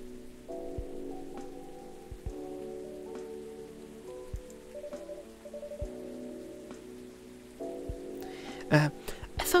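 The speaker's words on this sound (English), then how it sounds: "it was raining as hard as it is now" Heavy rain in the video game Coffee Talk patters steadily with scattered drop impacts under soft sustained music tones, moderately loud, without talk.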